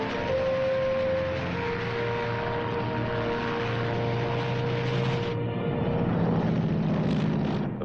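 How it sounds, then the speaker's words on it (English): A propeller plane landing on the Tarawa airstrip, a loud steady engine drone with tonal hum that shifts pitch partway through, close and continuous. "The first plane landed just 24 hours after the Seabees had started to work."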